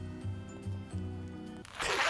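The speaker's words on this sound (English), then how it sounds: "Zipper. Undone." A clothing zipper is undone in one quick rasping pull near the end, preceded by a low tonal hum, with no talking.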